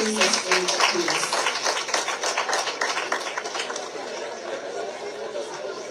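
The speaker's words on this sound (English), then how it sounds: "Round of applause as she takes the stage, please." An audience at a live event applauds as an ambassador takes the stage, dense clapping with cheering and chatter that is loud at first, then gradually thins and fades.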